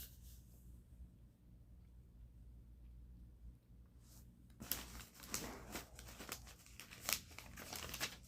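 After a few seconds of quiet room tone, a newspaper is handled and leafed through up close, giving bursts of crisp rustling and crinkling page turns.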